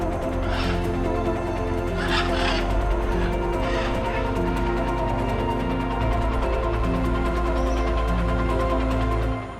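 In Costa Rican treetops, parrots and vultures let out a few harsh, raspy squawks in scattered bursts over a constant low hum.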